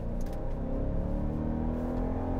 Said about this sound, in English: But I will tell you, just putting my foot in it,